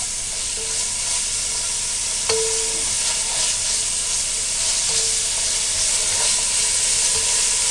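Whole green chillies sizzle and crackle steadily in hot oil, a continuous close frying hiss with a few sharper pops along the way.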